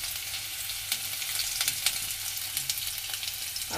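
Garlic frying in hot mustard oil for palak paneer makes a continuous, dense, close sizzle with scattered small pops and no voices.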